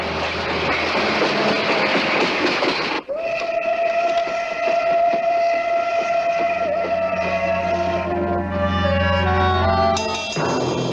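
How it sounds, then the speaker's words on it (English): A long steam train rolls along the rails, its whistle sounding in sustained loud tones while the wheels clatter steadily underneath, close and continuous with no voices. "That's a long train running."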